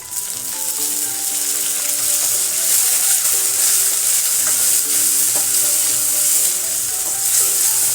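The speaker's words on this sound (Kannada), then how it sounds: "ಸ್ವಲ್ಪ ಸಾಸಿವೆ ಹಾಕ್ತಾ ಇದ್ದೀನಿ" Mustard seeds with chopped onion and tomato fry loudly in hot oil in a pan, giving a constant close sizzle and crackle with scraping stirs throughout and no talking.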